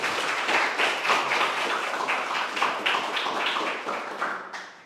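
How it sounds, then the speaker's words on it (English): Audience members at a coding bootcamp demo day in Lille clap after a student project presentation, a dense, steady burst of applause that fades out at the end. "Je pense qu'on peut les applaudir également encore une nouvelle fois."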